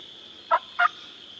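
A wild turkey gobbles twice in quick succession, two short, distant bursts over a steady high insect-like drone.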